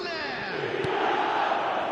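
Football stadium crowd in a video game, a broad, steady roar of massed voices swelling slightly, with chant-like rising tones and a brief sharp accent partway through.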